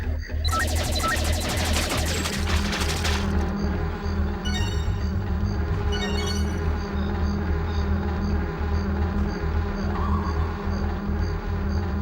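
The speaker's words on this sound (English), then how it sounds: "Just letting you guys savor the sound of the flies buzzing around the dead body" Flies buzzing around a dead body in the video game Jet Force Gemini, a steady insect drone under looping game music and ambience, with a brief bright burst near the start.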